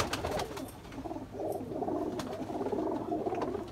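Flight pigeons kept for sale cooing softly in a loft, a low repeated burbling coo from several birds, faint and close, with light scratching and no talk.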